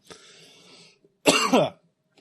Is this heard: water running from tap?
no